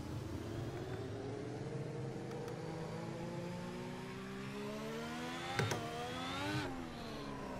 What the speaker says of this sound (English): I like the sound of this car a little more than the 15.